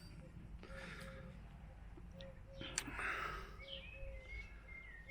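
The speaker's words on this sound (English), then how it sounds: "The smaller birds are making a beautiful midday chorus here." Small birds chorus at midday in springtime countryside, several faint tonal calls and chirps repeating intermittently over a steady outdoor background.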